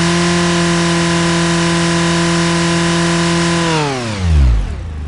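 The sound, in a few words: car engine accelerating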